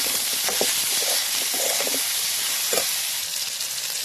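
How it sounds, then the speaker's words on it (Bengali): Potatoes and pointed gourd fry in a pan with turmeric and slit green chillies, producing a continuous close, bright sizzle and crackle with occasional stirring scrapes and no talking. "ভালো করে একটু লাল লাল করে ভেজে নেব।"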